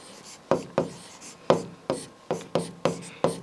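Chalk or pen writing out a Class 10 maths solution, with seven sharp, evenly spaced tapping strokes, each decaying quickly, close and fairly loud with no voice.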